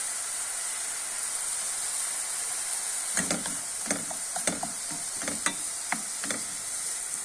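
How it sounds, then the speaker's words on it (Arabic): Onions fry in a pan with a steady close sizzle and hiss, while a spoon stirs them in a series of scraping knocks through the second half. "بس عاد ندير شويه ديال البصله"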